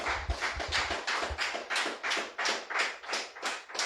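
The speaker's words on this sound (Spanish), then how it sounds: "dele fuerte aplauso al Señor" A church congregation claps together in an even, steady rhythm, a series of bright hand claps that fills the room, with no talking over it.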